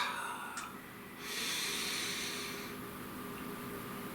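A slow, audible inhale during a guided healing meditation, breathy and airy, rising gently and held for a couple of seconds over a soft background hiss.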